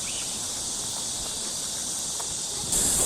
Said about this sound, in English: you can also hear cicada sound and other sound of insects